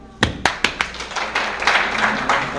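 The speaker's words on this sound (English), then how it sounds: "specially अजीम दाद साहब के लिए भरपूर तालियां" Applause at a Kashmiri American Alliance New Year celebration and opening ceremony: a few separate, sharp claps ring out, then the clapping thickens into fuller, scattered applause from the audience.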